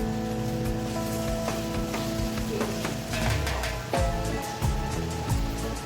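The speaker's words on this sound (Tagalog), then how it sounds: "Ang lakas ko ng ulan sa labas." Dense, constant heavy rain patter hisses outside, close, with soft kitchen clattering and humming underneath while bacon cooks.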